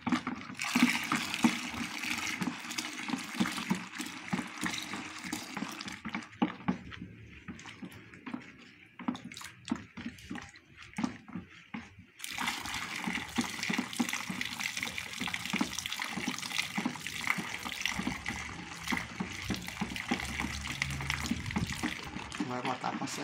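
Room-temperature tap water, nine liters, pours steadily into a bucket while making liquid soap from oil and caustic soda; a continuous close rushing splash dips midway, then resumes fully.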